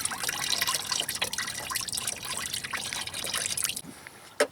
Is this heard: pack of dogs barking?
no